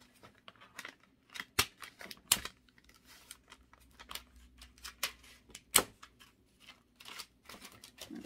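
Scissors cutting wire-edged foiled ribbon for a Christmas tree craft, a series of sharp, close snips spaced irregularly with faint rustling between cuts in a quiet room.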